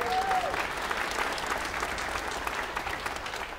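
Steady round of applause from a concert audience, dense and sustained for several seconds at moderate level, with a brief whistle or voice tone at the very start.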